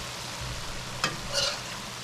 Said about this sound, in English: Just gonna add some potatoes in here. Cook up. And we're gonna turn it.